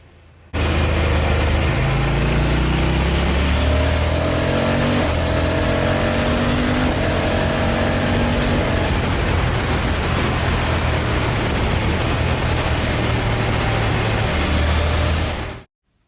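A Honda Africa Twin CRF1100L motorcycle accelerates hard and loud, its engine note climbing in a series of quick-shifter upshifts with no break in power, then cutting off abruptly.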